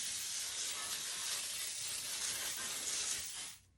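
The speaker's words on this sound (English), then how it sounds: "First, you're going to spray your baking pan." Cooking spray hisses onto a baking pan for apple pie cinnamon rolls, a continuous close, loud aerosol spray lasting several seconds before stopping abruptly.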